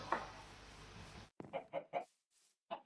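Chickens in the video game Minecraft clucking in a quick run of short, separate clucks after a burst of noisy background, with each cluck clear and close.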